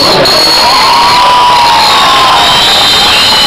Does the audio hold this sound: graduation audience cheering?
yes